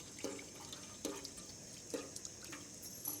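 Tap water running into a household water tank, with soft drips and splashes repeating roughly every second, faint and steady under a quiet background hiss.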